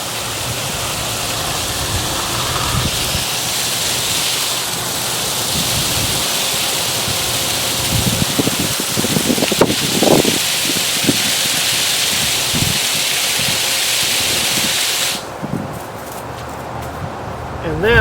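Water pours from a garden hose onto a freshly transplanted rose in a Florida garden, a steady rushing splash with shifting intensity, close and loud, ending abruptly near the finish.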